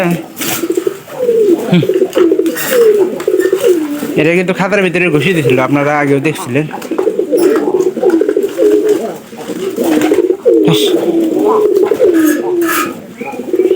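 Pigeons coo in soft, repeated throaty calls inside a home loft, close by and persistent, while someone talks over them almost the whole time.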